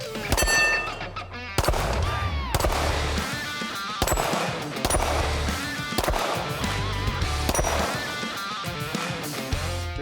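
Rapid pistol gunfire from a SIG Sauer P365-FUSE with a 21-round magazine, loud and close, in repeated quick bursts of sharp shots across a range, with tinny ringing between strings.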